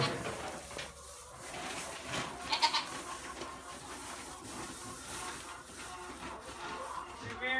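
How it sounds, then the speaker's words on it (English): Pygmy goats on a farm bleat in short calls over soft shuffling and rustling, fairly faint and close, with a brief louder cluster midway. "These are our pygmy goats."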